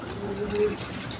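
A pair of Kalari Rajgolla pigeons give a soft low coo, one drawn-out note over a faint room hum, close by.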